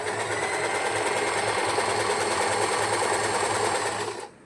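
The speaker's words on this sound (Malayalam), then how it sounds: "സ്റ്റിച്ചിങ് സ്റ്റാർട്ട് ചെയ്ത് നോക്കാം" An Usha Janome sewing machine stitches a rolled hem in one loud, steady, fast mechanical whir that runs unbroken and then stops abruptly at the end.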